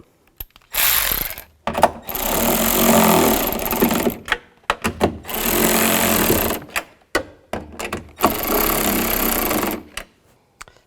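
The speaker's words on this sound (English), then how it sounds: "take your 10mm socket and snug those up" A 10mm socket ratchet tightens the mounting nuts of a replacement side mirror on a 2000-2006 Chevy Tahoe, in loud close bursts of rapid mechanical buzzing separated by short pauses.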